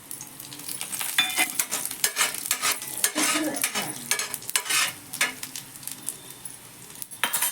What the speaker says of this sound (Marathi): हे चांगलं भाजून घेऊ तेलामध्ये